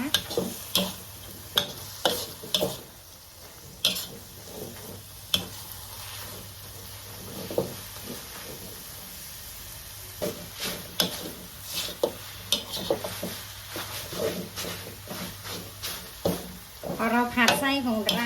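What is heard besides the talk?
stirring sugarcane-sugar filling in a wok until dry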